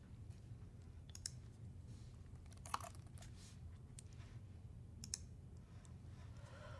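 Soft, sparse clicks of a computer keyboard being typed on, a few isolated keystrokes spaced a second or two apart over a steady low background hum, with no voices.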